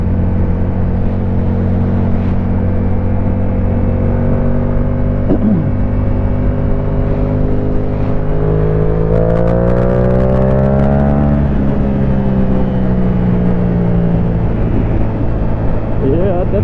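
Yamaha R7 motorcycle ridden on a highway, a loud continuous engine drone with steady harmonic tones shifting in pitch as it speeds up, mixed with constant wind roar close to the rider.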